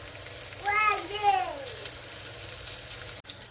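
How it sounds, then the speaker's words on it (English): Chicken thighs sizzle in a pan as a steady, low frying hiss under a voice speaking briefly; the sizzle continues faintly afterward, with a soft click near the end. "I'm just gonna put these chicken thighs down. I'm gonna cook them for about 4 minutes on each side"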